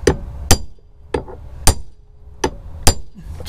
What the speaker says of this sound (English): to tighten it first with the impact screwdriver. And now he's changing it to the loosening to the left.